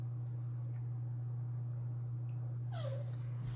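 An 18-year-old dog gives a faint high whimper near the end, a thin rising and falling whine over a steady electrical hum, indoors in a quiet room.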